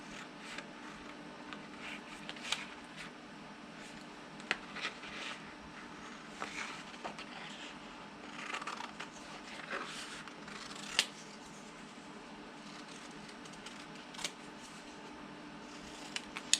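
Scissors snip model kit decals, the Aztec decal sheet for a Polar Lights 1:1000 scale Discovery Enterprise, in faint, quiet, close-up clicks and cuts scattered irregularly over a soft background hiss.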